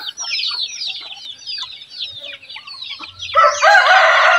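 Backyard chickens and chicks cluck and cheep in a steady chatter of overlapping calls, growing louder and busier near the end, no speech.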